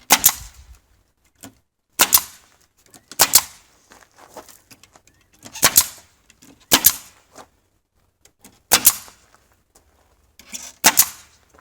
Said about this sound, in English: This little Harbor Freight gun sucks. Shoots blanks all the time.